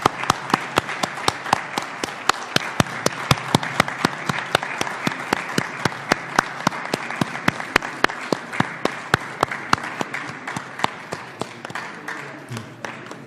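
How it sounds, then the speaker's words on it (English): An audience's round of applause and standing ovation at a parliamentary handover ceremony, sharp distinct claps in a fairly regular rhythm over a diffuse wash of clapping, close and steady for the whole stretch. "we must give them a round of applause and a standing ovation"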